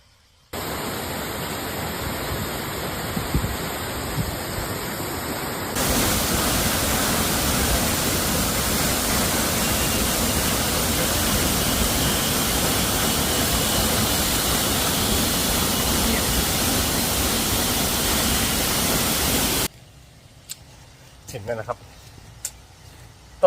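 Pa Mak waterfall, a forest waterfall in Tha Song Yang, Tak, Thailand, gives off a steady, loud rushing roar for about fourteen seconds, with softer water noise before and voices near the end.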